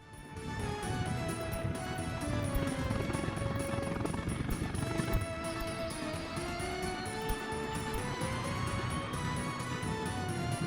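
Helicopter rotors thrum steadily in the Soviet city-building game Workers and Resources: Soviet Republic, a continuous beating wash mixed with in-game music and ambience throughout, with no one talking.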